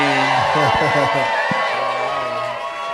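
A loud crowd at a drag show at Roscoe's cheers, whoops and shouts continuously, with an emcee's amplified voice talking over the noise.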